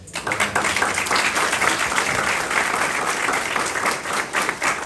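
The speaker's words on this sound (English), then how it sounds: "So congratulations to you both. A round of applause." Steady, dense applause from a crowd at an art gallery exhibition opening in Oshawa, Ontario, continuous and fairly close for the whole stretch.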